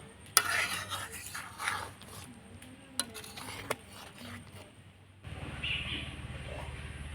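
A spoon scrapes and taps in a pan as ghee is stirred into a palm and milk pitha mixture on the stove. Soft intermittent clinks are followed by a steadier low bubbling hiss, all faint and close.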